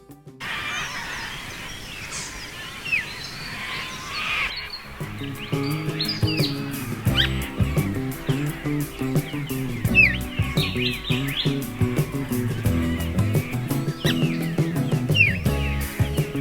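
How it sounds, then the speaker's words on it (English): Birds chirp and sing at sunrise beside Yarrie Lake campground, a steady chorus of overlapping tweets and calls, some close and bright, others farther off, with no voices. "the birds are singing"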